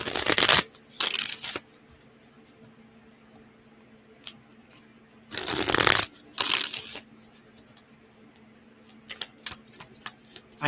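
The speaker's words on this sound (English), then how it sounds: "let's pull some tarot and get some confirmation" Tarot cards are shuffled up close in loud riffling bursts: two at the start, a longer pair in the middle, then short flicks and taps near the end, with quiet stretches and a faint hum between them.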